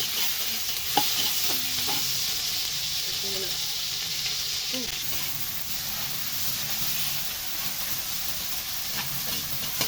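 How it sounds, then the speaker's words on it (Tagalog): Tomatoes sauté in a hot pan for Filipino ginisa, a steady close sizzle and hiss running throughout with faint clinks of stirring and no talking. "lagyan na ako muna natin ang mabangong amoy ng ginisa. Nagalagay na tayo ng kamatis."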